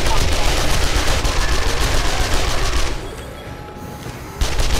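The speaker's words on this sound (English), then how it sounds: "I got SMG for you." Sustained SMG fire in the survival game 7 Days to Die during a horde night, a dense loud stream of shots that pauses briefly before resuming, with voices mixed in.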